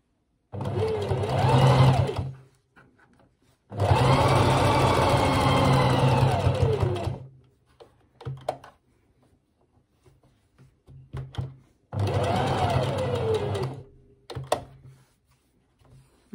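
A domestic sewing machine stitches seams on a wool coat in three loud, steady runs of rapid whirring, separated by quiet pauses and short bursts of a few stitches.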